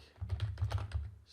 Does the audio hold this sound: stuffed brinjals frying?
no